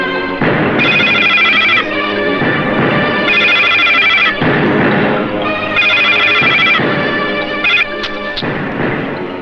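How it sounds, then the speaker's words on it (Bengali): A telephone rings loudly and close in long repeated electronic bursts separated by brief gaps, with nothing else heard. "এটা যুবরাজের ফোন।"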